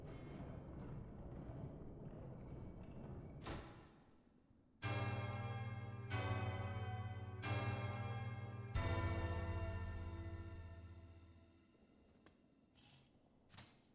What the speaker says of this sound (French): Ah, une cloche, une vraie cloche.